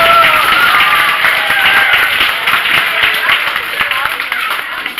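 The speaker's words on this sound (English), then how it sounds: "I'm going to ask you to clap for me and my pals Turbo and Cosmo." Children in a school program audience clapping, a broad wash of hand claps mixed with young voices and chatter, fairly loud and close.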